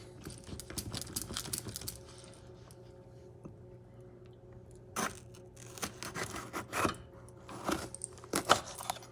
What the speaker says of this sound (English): So you cut the pepper.